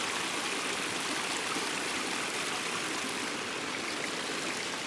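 Water rushes over rocks at a micro hydro intake, a steady, dense broadband stream sound that stays constant throughout, close and unbroken with no talking.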